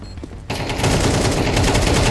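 Rapid automatic gunfire in a shooter video game, a dense continuous burst of shots that starts abruptly after a brief quiet moment and stays loud and close throughout, with no speech over it.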